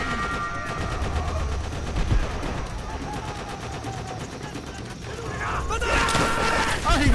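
Enemy machine gun fire in Call of Duty: World at War: sustained, dense rapid fire that runs through the whole stretch and swells louder near the end, with voices shouting over it.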